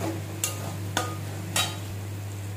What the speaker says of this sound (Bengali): এই যে ভেজে রাখা ফুলকপিগুলো দিয়ে দিলাম।